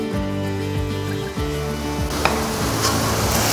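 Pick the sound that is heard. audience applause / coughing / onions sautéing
onions sautéing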